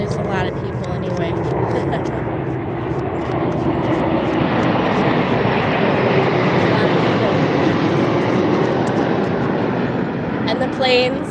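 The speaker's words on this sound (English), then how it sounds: "if you like the sound of planes" Airplanes fly overhead as a continuous, loud engine drone that swells toward the middle and then eases, with what sounds like faint voices underneath.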